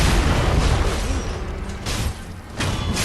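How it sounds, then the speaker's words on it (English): Enemy cannon fire in Sekiro: Shadows Die Twice, heard as a dense, loud, sustained roar with heavy booming bursts about midway and again near the end, no voices. "he hits very hard with the cannon and is willing to shoot you point blank with it"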